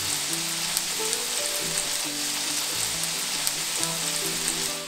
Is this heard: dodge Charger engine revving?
no